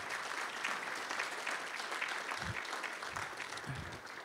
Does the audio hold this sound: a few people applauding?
yes